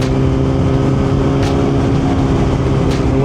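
Heavy freeway traffic with big trucks roars steadily around a rider on a 1000cc motorcycle, a dense, loud engine and road drone with brief passing whooshes and no talk.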